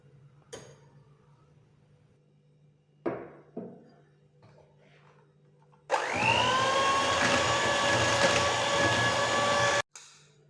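An electric mixer whirring steadily for several seconds as sugar is mixed into beaten eggs for an apple mascarpone cake batter, after a few faint clinks and taps.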